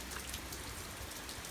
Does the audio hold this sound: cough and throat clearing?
no